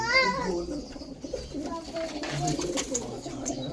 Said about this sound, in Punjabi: ਇਹ ਕਬੂਤਰੀ ਹੈ, ਇਹ ਕਬੂਤਰੀ ਦੇ ਨਾਲ ਦਾ ਕਬੂਤਰ ਆ